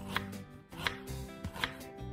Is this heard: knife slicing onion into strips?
yes